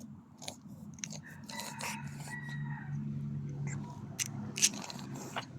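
A cat crunching Whiskas fish-flavoured dry cat food at close range, with steady rapid chewing and sharp biting clicks over a low background hum, while a person speaks softly nearby.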